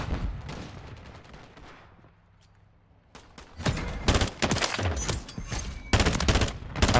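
Bursts from an FR 556 burst rifle in MW3 ring out loud and close after a quiet lull, clustered volleys of rapid shots repeating over several seconds with a few tapering echoes between them.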